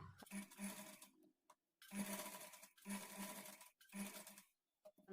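A sewing machine stitches blouse sleeves onto the body in four short bursts of rapid chattering, separated by brief pauses, close but quiet.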